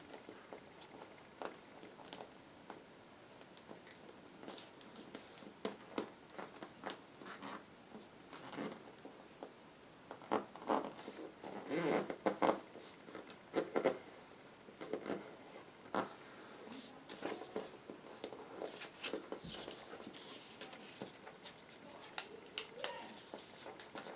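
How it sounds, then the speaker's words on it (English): Paper being folded into an origami swan's wings, giving soft, continuous rustling and creasing with scattered sharper crinkles, close and quiet. "Then you're going to fold these little wings right onto the crease again, like so."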